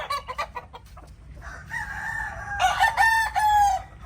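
Gamefowl roosters being readied for a local banded elimination in Bataan crow loudly and cluck nearby, with short clucks leading into long, drawn-out crows.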